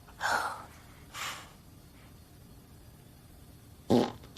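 A fart in a TV comedy sleepover scene sounds as a short, moderately loud breathy burst, followed by a weaker one and then a sharp final blast a few seconds later.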